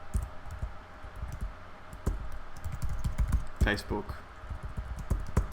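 Quick clicky typing on a computer keyboard, an uneven stream of close key taps and a few louder strikes, with someone speaking over it.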